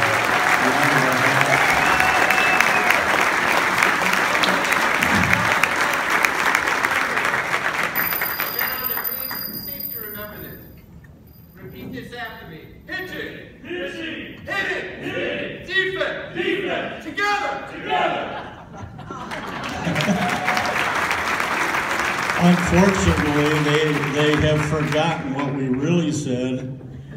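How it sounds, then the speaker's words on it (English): Audience applause for young honorees at a sports hall of fame induction ceremony: a loud, dense wave of clapping fades out, a quieter stretch with a voice and scattered sounds follows, then a second strong round of applause builds. "So would you please give these young people a round of applause."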